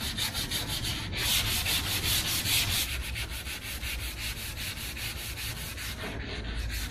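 Car paint being hand block sanded with 320 grit sandpaper on a flexible block, a steady loud scratchy rasp of back-and-forth strokes, continuous and close, with no voices.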